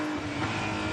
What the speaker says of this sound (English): as we hear that strange straight 6 of the BMW number 46 of Maxime Martin